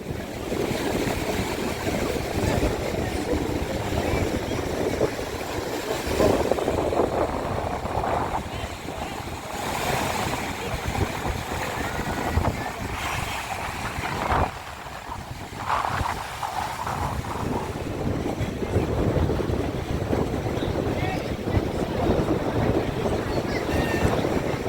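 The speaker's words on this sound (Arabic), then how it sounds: "فهسيبكم لقطه صغيره كده صورتها لكم مع الاصوات الطبيعيه بتاعه البحر" Sea waves breaking on a beach at night, a continuous loud surf roar with rolling swells and some wind rumble, lasting the whole time with no voices over it.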